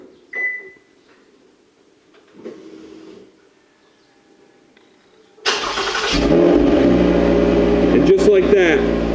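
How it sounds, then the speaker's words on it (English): A few faint clicks and beeps from a remote start, then a 2018 Toyota Camry engine cranks and catches, settling into a steady, fairly loud idle close by. "the car should start"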